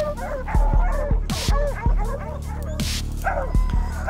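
Several hunting dogs bay and yip excitedly while pursuing a bobcat, their sharp barks and whines repeating in an irregular, overlapping rhythm at close range, loud and busy throughout.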